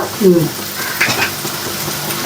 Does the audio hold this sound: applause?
no